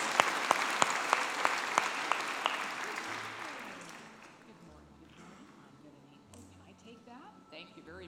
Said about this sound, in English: How about a round of applause for this class?